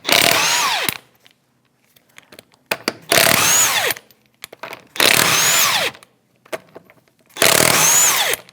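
Impact gun with a 19mm socket spinning off the wheel studs on a 2001-2007 Volvo V70 XC during front CV axle replacement, four loud buzzing bursts of about a second each separated by quieter pauses with small clinks.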